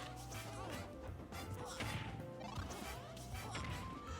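Forward smash attacks connecting in the Super Smash Bros. fighting game, heavy crashing hits over busy game music and effects, several impacts in quick succession.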